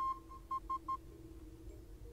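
Morse code beeping inside The Solus Project video game: a few short tonal beeps in an uneven pattern near the start, followed by a steady low hum with no voices.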